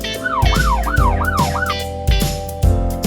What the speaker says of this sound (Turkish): Bu bir polis arabası. Böyle ses çıkarır.